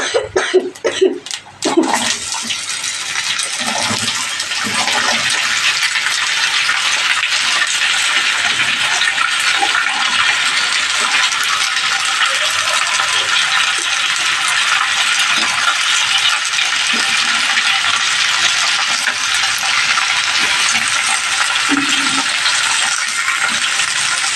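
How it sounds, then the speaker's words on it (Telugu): Ridge gourd pieces dropped into hot oil in a home kitchen, a clattering start followed by a steady loud sizzle that continues alone throughout. "ఆయిల్ చూపిస్తున్నాను ఫస్ట్. ఇదిగోండి బీరకాయ ముక్కలు అయితే వేస్తున్నాను."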